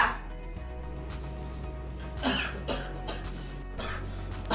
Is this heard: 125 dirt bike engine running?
no